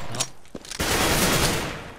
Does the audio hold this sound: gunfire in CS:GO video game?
yes